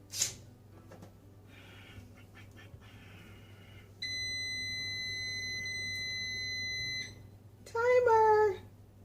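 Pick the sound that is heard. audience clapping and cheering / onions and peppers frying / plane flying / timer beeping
timer beeping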